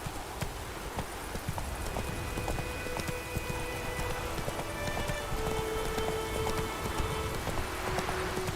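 Roach the horse trots through rain in The Witcher 3, hooves clip-clopping in a steady, even rhythm over a constant patter of raindrops, with faint tonal music underneath.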